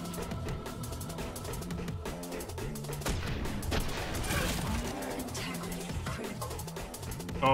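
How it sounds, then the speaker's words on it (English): Gunfire in the video game Sprawl, a dense run of shots and impacts mixed into a busy game soundtrack with pulsing music, fairly steady loudness throughout and no talk. "Who's shooting at me?"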